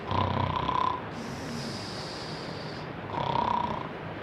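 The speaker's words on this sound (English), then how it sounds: "it's called snoring, or it is called obstructive sleep apnea syndrome" Snoring in repeated rasping bursts, one in the first second and another near the end, with steady breathy noise between them, heard up close with no talk.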